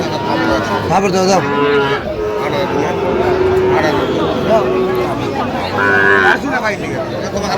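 A Sahiwal bull calf moos loudly and repeatedly at a cattle market in Chattogram, close calls cutting through background crowd chatter and voices.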